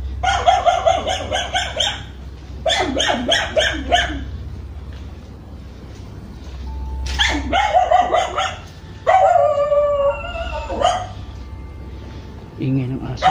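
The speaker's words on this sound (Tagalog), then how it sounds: "Pasensyahan mo na yung aso dito." Dogs bark loudly in repeated bursts at a large neighborhood cemetery, near and sharp, with a low steady rumble between them.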